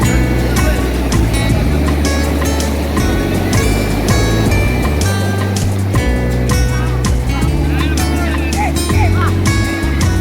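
Loud continuous crashing and rolling sea surf at Panadura beach in Sri Lanka, waves breaking repeatedly close by, with a steady low rumble and voices mixed in.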